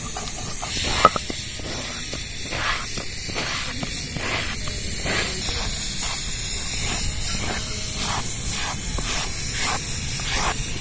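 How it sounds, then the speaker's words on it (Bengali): A pressure cooker boiling chana dal on a home stove lets out a loud, continuous steam hiss with a rhythmic pulsing flutter through the whole stretch, close and with no talk. "ভালো প্রেশার কুকার হলে চারটে সিটিতেই ডাল সিদ্ধ হয়ে যায়"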